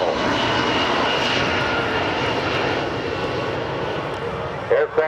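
A USAF C-17 Globemaster III jet transport roars through a flying demo at a 2009 Randolph AFB airshow, a loud, continuous engine rush filling the air while an announcer talks over it.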